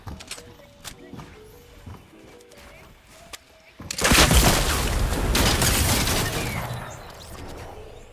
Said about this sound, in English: That was with the mythic primal shotgun, which you can get at the Spire by killing the boss there.